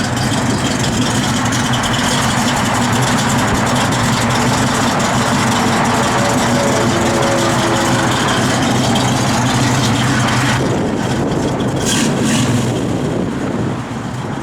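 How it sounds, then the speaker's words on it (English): A 1967 Chevrolet Camaro engine idling with a lopey cam, a steady loud rumble close by with an uneven throb, no talk, and a brief hiss near the end. "You can hear that cam working a little."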